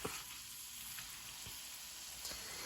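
Donuts sizzle steadily in hot oil for a Christmas morning batch, a continuous bright hiss with a few soft pops and bubbling bursts, close and even, with no voices.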